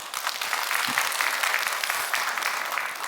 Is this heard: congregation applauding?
yes